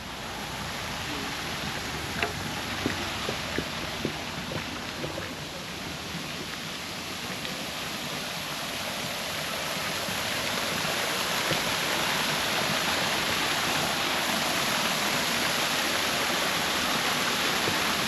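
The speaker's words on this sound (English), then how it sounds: "Just a nice waterfall." Steady roar of a waterfall at a wildlife park in Darwin, a dense, continuous wash of falling water that builds slightly louder over the clip, with no talk.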